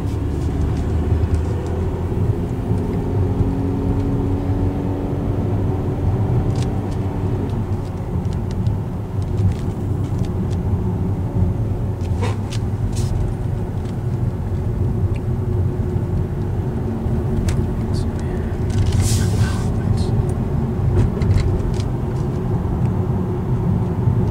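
A car drives along a road the day after Hurricane Sandy, a steady low engine and tyre rumble lasting throughout, with faint scattered knocks and clicks and no talking.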